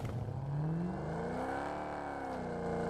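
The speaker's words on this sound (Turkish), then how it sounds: "Bence o benim araba sesimi duydu buraya korken o yüzden çıkmadı." A video-game car engine hums and revs steadily, its pitch rising and shifting as it accelerates, fairly quiet and continuous with no talking.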